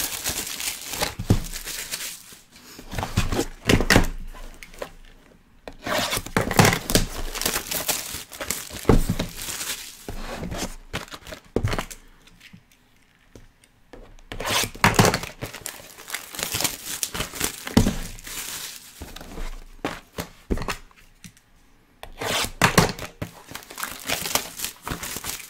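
Plastic wrappers being torn open on packs of 2018 Select football trading cards, a busy close run of loud crinkling and crumpling in repeated bursts with short pauses, no talking.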